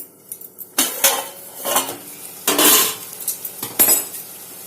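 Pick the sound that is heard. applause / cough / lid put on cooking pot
lid put on cooking pot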